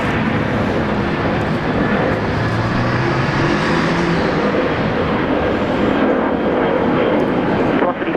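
An airliner takes off from Brisbane Airport, a loud, steady broadband jet roar that holds throughout and swells slightly near the end, with no clear break.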